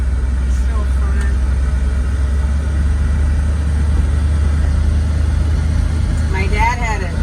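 Engine of a 1977 Ford F150 pickup truck, a steady low rumble running throughout, close and constant, with people talking briefly over it.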